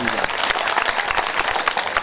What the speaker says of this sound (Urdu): بھائی ایک بار زوردار تالی بجا دی جائے۔